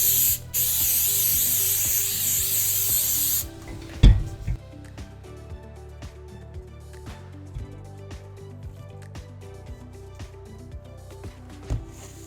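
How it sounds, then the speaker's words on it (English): A loud, continuous hiss of pan spray on a brownie baking pan for a few seconds, followed by quieter rubbing, tapping and clinking of the metal pan nearby. "I'm going to spray first on the sides of the pan and then up the middle."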